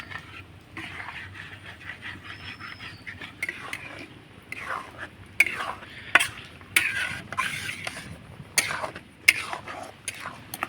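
Semolina being stirred in milk over medium heat for pitha, with repeated close scraping strokes of a spoon against the pot over a soft background hiss, some strokes louder than others.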